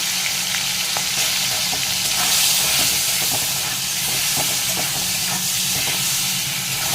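Fish fries in a salted pan, giving a constant loud, hissing sizzle with faint scattered crackles throughout and no voices.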